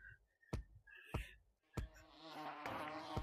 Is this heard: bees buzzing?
yes